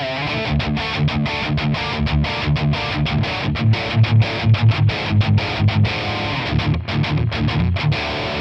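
A heavily distorted electric guitar plays through a Tonex ONE Mesa Mark V amp capture on the channel 2 gain setting, with a noise gate and no reverb. It chugs a tight, loud, rhythmic palm-muted riff with sharp gated stops.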